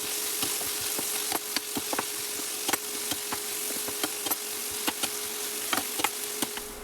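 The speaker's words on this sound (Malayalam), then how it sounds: "നെക്സ്റ്റ് കട്ട് ചെയ്ത് വെച്ച സവാളയും പച്ചമുളകും കറിവേപ്പിലയും ചേർത്ത് കൊടുക്കുക." Chopped onion, green chilli and curry leaves fry in hot oil, a steady loud sizzle broken by frequent sharp pops and spatters, with no talking.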